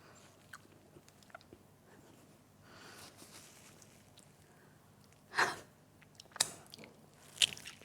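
Crunchy fried chicken, dark meat from a Southern-style recipe, bitten and chewed up close, with three sharp crisp bites standing out over quieter chewing and breaths.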